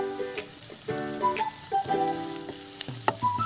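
Carrots and the white part of onion leaves sizzle and crackle steadily in a hot pan for egg chowmein. The frying stays close and continuous, with occasional stirring knocks and no talking.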